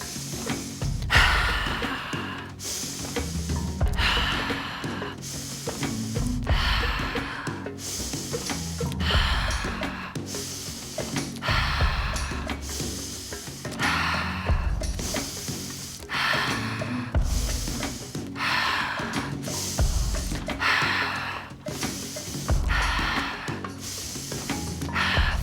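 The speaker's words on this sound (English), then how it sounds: "These are powerful atomic breaths." Forceful yoga breathing, sharp inhales through the nose and exhales through the mouth, repeated in a steady rhythm of about a dozen close, loud breaths.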